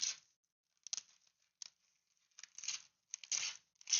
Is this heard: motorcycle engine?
no